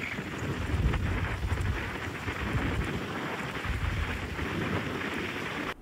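Heavy rain pours steadily and close by, a dense unbroken roar with low rumbling wind gusts, on a trip to Maredumilli's hill forests near waterfalls; no voices are heard.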